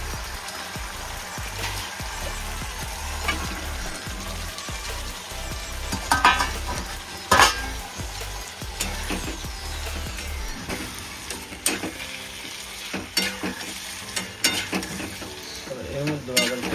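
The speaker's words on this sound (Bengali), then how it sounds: "এবার এটাকে ভালো মতন কষাতে হবে।" Curry simmering and being stir-fried in oil, a continuous close sizzle with frequent spatula scrapes and clatters against the pan, a few louder knocks partway through, no voices.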